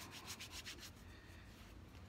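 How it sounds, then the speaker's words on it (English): Leather conditioner being rubbed by hand into the false tongue of Red Wing Iron Ranger 8111 boots, a soft continuous close-up rubbing with quicker strokes early that settle into a steady, faint swish. "I'm gonna rub it in on both sides"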